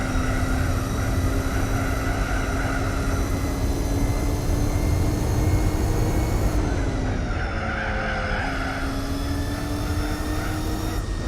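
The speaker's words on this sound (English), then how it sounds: "the engine sounds a bit better in this car" A loud, steady car engine drone in Gran Turismo 4 with a smooth synthetic tone holds at constant pitch, dipping briefly as revs shift, with no talking.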